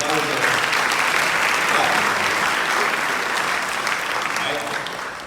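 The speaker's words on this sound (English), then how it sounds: "Y'all can clap for that." A crowd at a Bermuda Alpha Beautillion gala claps loudly and continuously, the dense applause holding strong before easing off slightly at the end.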